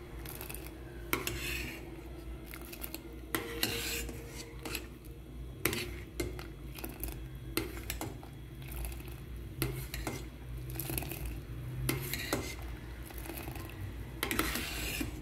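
Sago dessert cooks in a pot while a spoon stirs and knocks against the metal in repeated scraping clinks over a low bubbling simmer, close and steady with no talk.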